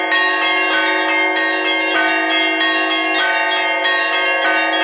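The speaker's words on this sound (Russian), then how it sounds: "ровно в полдень по благословению патриарха Кирилла прозвучал торжественный колокольный звон" Festive Orthodox church bells peal at noon, a loud, sustained ringing with rich overlapping tones and repeated strikes every second or so, heard alone with no voices.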